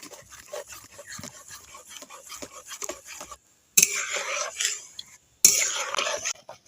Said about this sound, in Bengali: এবার এইভাবে খুন্তিটা নাড়তে থাকবো না হলে তোলায় লেগে যাবে